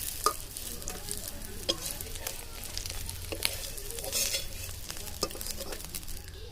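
Fish fritters with spices frying in oil, turned over now and then, giving a steady crackling sizzle with scattered pops and light clinks of a utensil against the pan, close by and fairly quiet.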